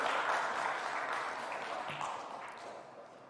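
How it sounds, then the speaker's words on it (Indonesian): Sustained audience applause at an Indonesian higher-education policy announcement on dropping the required undergraduate thesis, a dense wash of clapping that holds steady and then thins slightly toward the end. "Itu boleh tepuk tangan"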